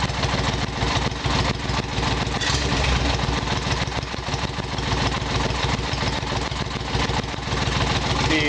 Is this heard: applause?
no